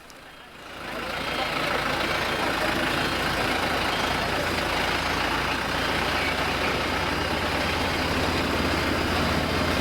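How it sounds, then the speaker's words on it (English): A truck tows a disabled truck off a bridge with a rope, producing a steady, loud engine roar and broadband rumble that swells within the first second and then holds evenly throughout. "the truck at the far side drove up with a rope to tow the disabled truck from the bridge"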